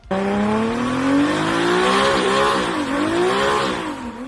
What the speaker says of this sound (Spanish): no hay diésel que tenga un sonido como este